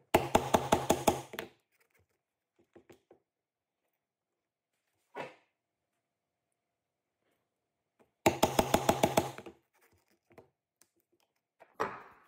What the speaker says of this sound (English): So I'm going to punch out the two ends and then just cut it with a knife between the two.